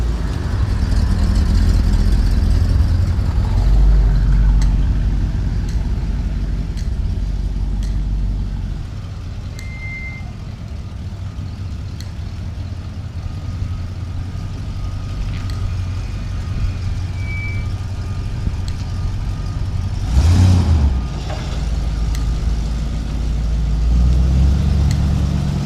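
A GMC motorhome's engine idles with a low, steady rumble as it creeps forward onto a lift in a shop, with a heavier engine surge near the end and faint clanks in the background.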